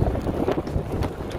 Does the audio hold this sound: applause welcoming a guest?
no